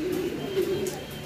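Racing pigeons coo close by in a low, throaty, warbling run that lasts about a second, set against faint background noise and a few soft chirps.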